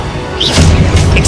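Incendio fire spell from Hogwarts Legacy going off as a short loud whooshing boom with a crackling burst, close and alone.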